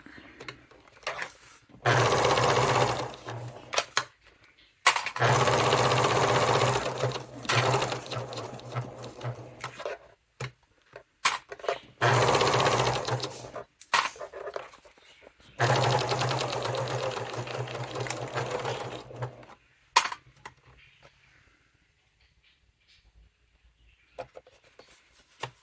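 A sewing machine stitches a fabric wallet in several runs of steady, rapid whirring, each a few seconds long, separated by short pauses, then falls quiet near the end.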